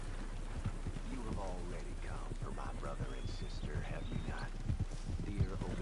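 A horse in the Red Dead Redemption video game clops and shifts on the ground, with soft hoof taps and snorts under steady rain, while a person talks over it throughout.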